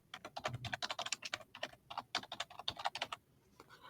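Rapid, uneven clicking of keys on a computer keyboard while a webhook is renamed in an automation tool, a close, continuous burst of keystrokes with no talking.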